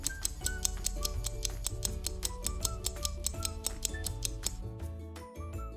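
A clock-ticking sound effect in a Scratch animation beats in fast, even ticks over a looping musical backing, steady and clear, with a brief drop in the final second.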